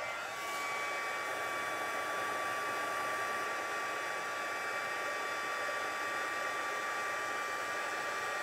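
An embossing heat tool blows hot air over a handmade card in a steady, even whirring hiss that runs unbroken and fairly close.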